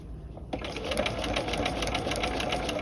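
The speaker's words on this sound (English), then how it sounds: "And I stitch right to that corner." A sewing machine runs steadily at close range, stitching a V yoke corner at a shortened stitch length, its rapid even whirr starting after a brief quiet moment and continuing without pause.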